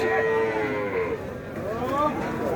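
Holstein Friesian cows at a rainy-day cattle market low repeatedly and loudly, their drawn-out moos overlapping, with faint crowd voices in the background.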